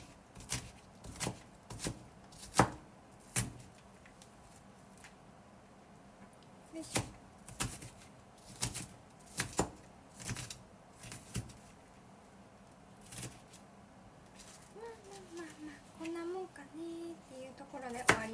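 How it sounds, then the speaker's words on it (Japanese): An onion is minced finely with a knife on a cutting board, producing a series of close, sharp chops in short uneven bursts while someone talks quietly in between. "今日割とみじん切りがスムーズにいってるから玉ねぎ切るのが楽しいです"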